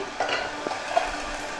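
Rice being stirred in a cooking pot, a soft scraping, sizzling texture with a couple of brief clinks, fairly close and steady, no talking.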